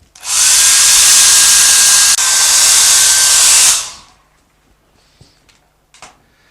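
A hair dryer blasts loudly and steadily for about three and a half seconds, with one brief dip, while drying a wet oil painting of a snow scene. It then cuts off, leaving quiet room tone and a few faint taps.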